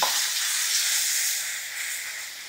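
Tomato puree made from two blended tomatoes hitting hot oil in a pan for a mushroom masala curry, a loud, steady, bright hissing sizzle that eases slightly toward the end, with no talk.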